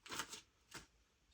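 Tarot cards are shuffled by hand in a quiet room, with three quick riffling bursts, the first two close together and a third after a short pause, soft and near.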